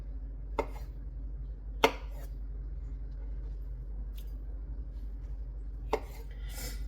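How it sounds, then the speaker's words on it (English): A knife chops salad ingredients in half on a cutting board, four sharp distinct cuts spaced a second or more apart over a steady low room hum. "I'm gonna just chop each one of these in half,"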